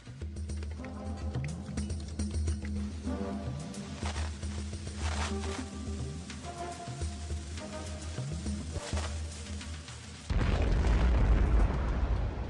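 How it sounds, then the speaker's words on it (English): A deep rumbling blast bursts in near the end, loud and low over a backdrop of dramatic music. "The resulting explosion signaled a furious 6-hour Ottoman assault."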